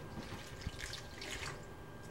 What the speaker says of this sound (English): And then you had to add water.